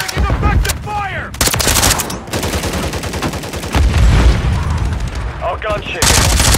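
Loud, rapid bursts of automatic gunfire in a combat firefight, with repeated volleys broken by brief pauses and radio-style voices speaking between the shots.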